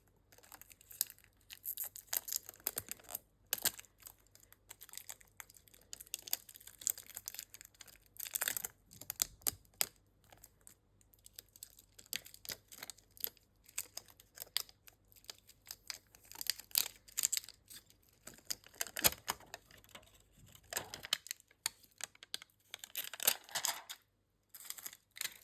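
Protective film is peeled off a rose gold G-Shock AWM-500GD-4A watch with a mirror finish. Close, quiet crinkles and small tearing rustles come in short bursts and pauses, with no talking.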